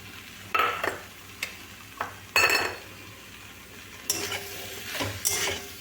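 Tomato chutney with raisins is stirred in a pan: repeated scraping strokes and clinks of a spoon against metal come in bursts over a faint background sizzle, close and fairly loud.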